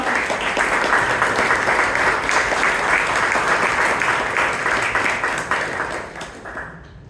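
A room full of Toastmasters club members gives sustained, even applause at a term-end meeting, dense clapping that holds steady and then tapers off toward the end.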